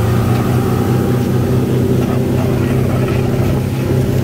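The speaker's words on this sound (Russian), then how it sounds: "Вон еще одна лодка идет." A motorboat engine drones steadily at speed, a loud, constant low hum with water noise throughout.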